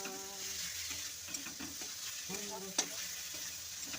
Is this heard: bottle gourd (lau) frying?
yes